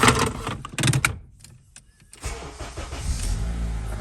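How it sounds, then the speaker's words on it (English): A 2009-2014 Acura TSX engine cranks and catches after a brief quiet gap, then settles into a steady low idle rumble close by. "Actually, I'll turn on the car."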